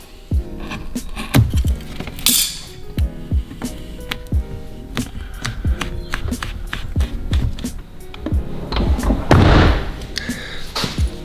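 Several sharp slams and thuds of a VW T5 van door shutting after fitting new door rubbers, repeated at intervals, with clattering handling noises in between.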